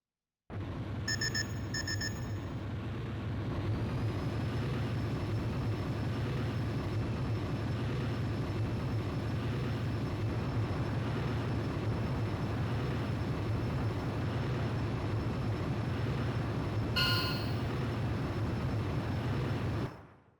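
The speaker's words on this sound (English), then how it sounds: "Antares, you're clear for takeoff" Jet fighter takeoff in the game Ace Combat: Joint Assault, a steady loud engine roar held for about twenty seconds with brief electronic beeping near the start and again later.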